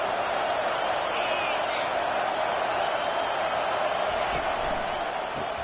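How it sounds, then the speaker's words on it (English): A stadium crowd at a college football game between Auburn and Miami roars in a sustained, dense wall of cheering that stays loud and even throughout, with a commentator's voice faintly beneath. "This crowd knows when to bring it."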